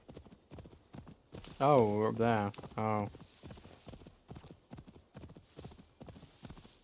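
Steady, rhythmic clip-clop of horse hooves walking at a brisk pace in the video game Assassin's Creed Valhalla, with a voice briefly speaking over the first few seconds.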